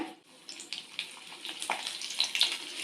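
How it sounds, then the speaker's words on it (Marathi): Green chillies frying in hot oil in a kadhai: a bright, bubbling sizzle with scattered crackles and pops, moderately close and fairly quiet, swelling slightly toward the end. "कढाईमध्ये तेल गरम आहे आपण मिरची तळून घेऊया"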